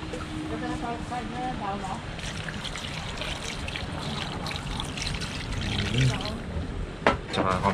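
Water poured into a cooking pot of seasoned stew with pepper and bay leaves, a steady trickling pour running under continuous talk, ending with a few clinks and sloshes.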